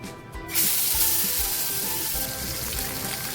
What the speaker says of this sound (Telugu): తక్కువ ఆయిల్తోనే చేస్తాం, డీప్ ఫ్రై కదండి, తక్కువ ఆయిల్తోనే